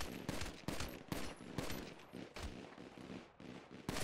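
Rapid gunfire from a GTA video game session against an underground boss fills the clip with dense, loud bursts of repeated shots, sustained throughout with no talking.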